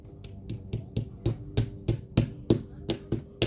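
Hammer blows driving nails into wooden lath over a basement window opening in a concrete foundation, a steady run of about a dozen sharp, close strikes spaced evenly apart.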